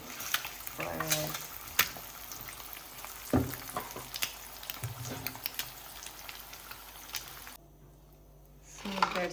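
Eggs fry in a pan for a Ramadan sehri meal, giving a steady close sizzle broken by sharp spatter pops and clinks. A short quieter gap comes near the end before the sizzling returns.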